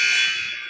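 A basketball halftime buzzer blares loud and sustained at a girls' high school game, tapering slightly as it holds.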